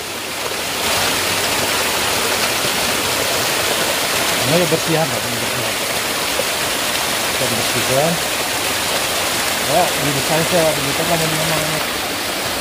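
Steady, loud rush of an approximately 20 to 30 metre waterfall, Curug Cadas Ngampar in Citorek Barat, Indonesia, fills the whole clip, with someone speaking briefly over it several times.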